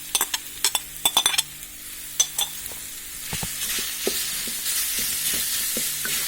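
Mashed wood apple pulp for a pickle being stirred in a frying pan, sharp spoon clinks and taps at first, then a rising hissing sizzle as the pulp cooks, close by.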